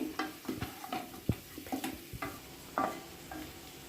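Potato fry being mixed in a pan with a few tablespoons of oil: soft scraping stirs and light clinks repeat at an uneven pace over a faint sizzle, close up, with no voices.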